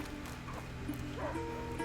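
In the video game A Plague Tale: Innocence, a dog gives faint, distant yips and whimpering barks under steady background ambience.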